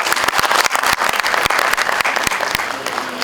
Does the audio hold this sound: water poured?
no